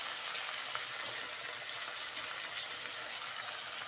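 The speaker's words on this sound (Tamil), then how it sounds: "டமேட்டா போட்டிருக்கேன், நல்லா வதங்கட்டும்" Tomatoes and onions sauté in a pan with a little salt, making a soft, steady, even sizzle that stays constant without pauses.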